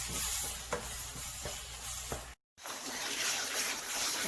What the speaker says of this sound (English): you want to saute this for about 10 minutes, 5 to 10 minutes, constantly stirring it